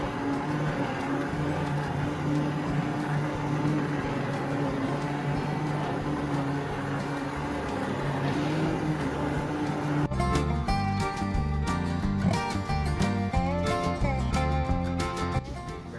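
A blender motor whirs steadily and loudly through cooked tomatoes for marinara sauce, then its pitch and texture shift partway through into a choppier, rattling grind as it keeps running.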